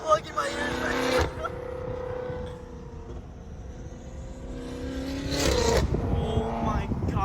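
A BMW M5 fitted with a full exhaust and downpipes roars loudly and close by, its engine tone holding steady before climbing again, with people exclaiming over it.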